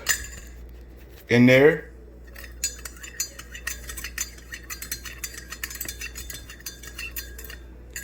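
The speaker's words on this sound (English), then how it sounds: "we're going to take our spoon, stir the sugar up" A metal spoon clinks and scrapes steadily inside a cup while sugar is stirred into 18 ounces of coffee; the stirring runs close and fairly loud, interrupted once by a short burst of speech.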